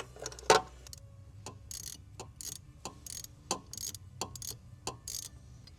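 A 5mm hex tool working loose the bolts on the turbo muffler delete of a 2024 MK7 Jetta GLI, sharp metallic ratcheting clicks in spaced bursts, close and alone.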